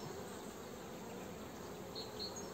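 Honeybees swarming around an open hive during a March inspection, a dense, steady buzzing drone of many insects, fairly soft and continuous, without voices.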